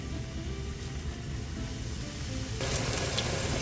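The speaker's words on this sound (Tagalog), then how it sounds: "Importante po mainit yung mantika pag nilagay niyo po yung talong." Eggplant frying in hot oil, a steady close hiss of sizzling that grows louder and brighter near the end, continuous with no talking.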